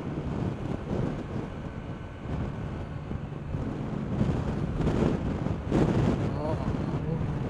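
Strong wind buffets a microphone on a motorbike ride, a continuous rough roar with gusts swelling toward the end, and a voice talking beneath the noise.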